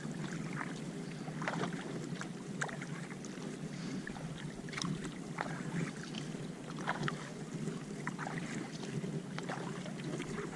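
Steady water swishing and gentle dipping strokes from a Nucanoe Flint fishing kayak being paddled on open water, at an easy relaxed rhythm, with light wind across the microphone and no talking.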